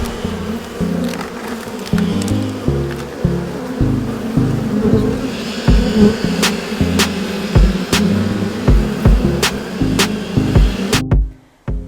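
A steady buzzing drone of honeybees during a bee removal in Maui, Hawai'i, mixed with rustling and handling noises, several sharp clicks, and ending abruptly.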